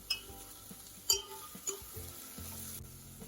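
Salted vegetables being stirred in a cooking pan for a low-carb vegan biryani, with a soft steady sizzle and a few scraping, clinking utensil strokes against the pan.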